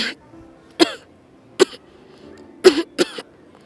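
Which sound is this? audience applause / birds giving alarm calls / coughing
coughing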